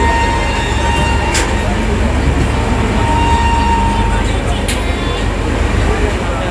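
A Tamralipta Express passenger train from Digha to Howrah runs steadily between stations, its loud continuous rumble and rattling filling the carriage interior, with a couple of brief sharp clanks and no clear talk.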